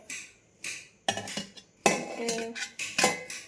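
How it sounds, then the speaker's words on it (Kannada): Silver puja ware, including a silver pot, a deity face mask and plates, clinks and clatters as it is handled, with sharp metallic knocks in irregular bursts close by. "ಇದೊಂದು ಬೆಳ್ಳಿ ಚೊಂಬು ಹಾಗೆ ಈ ಮುಖವಾಡ ದೇವ್ರದ್ದು ತಾಯಿ ಲಕ್ಷ್ಮೀದು ಇದನ್ನೆಲ್ಲ ಮತ್ತೆ ವಾಶ್ ಮಾಡ್ಕೊಬೇಕು ಇದರಲ್ಲಿ ತಟ್ಟೆ"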